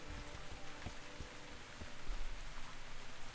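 Rain beside a pond in the Dyscourse game, a soft, steady patter of raindrops on surfaces with no talk.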